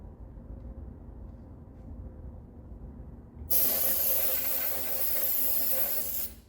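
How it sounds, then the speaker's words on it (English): After a few seconds of quiet background noise, an aerosol can sprays onto an engine nut on a 12-valve Cummins in one loud, continuous hiss lasting about three seconds before cutting off. "spray the crap out of it, throw it on there, spray it"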